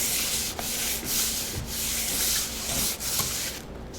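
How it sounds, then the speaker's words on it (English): Hand sanding of a gesso-coated 18-inch round MDF board, rhythmic strokes scraping back and forth with brief pauses between passes, close and alone with no talking. "So we're sanding it because it was just a little rough."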